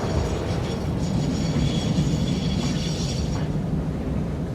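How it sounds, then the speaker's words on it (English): A train is loaded in the video game Satisfactory, giving a steady loud rumble of heavy machinery with faint high metallic whines running through it for a few seconds. "I figured I'd also record the loading up of the train."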